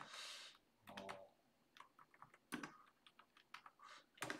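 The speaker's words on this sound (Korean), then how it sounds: "그 다음부터는 직접 제가 타이핑을 해볼게요." Keys clatter on a computer keyboard as code is typed, with irregular bursts of quick close clicks, a few louder keystrokes and short pauses between runs, with no speech.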